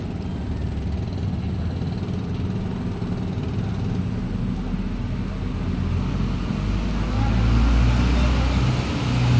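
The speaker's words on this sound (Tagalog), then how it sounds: "Hindi nga gumagalaw, traffic nga yung papuntang Binangonan" Slow, crawling road traffic heads toward Binangonan, with engines idling and a low, steady rumble that swells slightly near the end.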